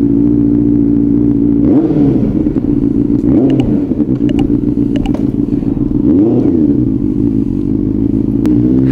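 A big bike motorcycle rides the road toward Tagaytay, its engine a loud, steady droning hum with several rising and falling revs as it accelerates and shifts, close up throughout.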